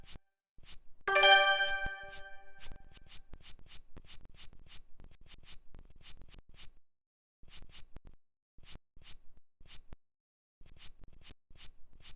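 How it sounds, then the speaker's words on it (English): Sand being brushed off buried artifacts in the VR game Hetepheres Tomb: short, soft scratchy strokes repeat in quick bursts, close and fairly quiet, with brief pauses between runs. "Grab the brush and carefully brush the sand away to fully reveal the artifacts."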